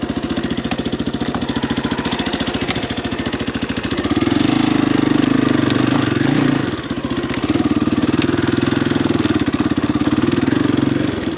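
A Honda XR dirt motorcycle runs loud and close on a dirt trail toward Aoral Mountain in Cambodia, idling with a steady pulsing rhythm, then revving higher and holding, dipping briefly and rising again.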